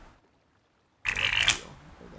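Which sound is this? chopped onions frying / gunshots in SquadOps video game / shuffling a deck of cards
shuffling a deck of cards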